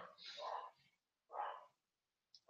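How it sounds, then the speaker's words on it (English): Dogs barking downstairs in a house, a few short bursts separated by pauses, moderately distant and fairly faint, with no talk over them. "I do apologise for the dogs barking,"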